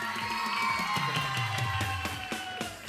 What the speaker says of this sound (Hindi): अपने लिए तालियां बजा लो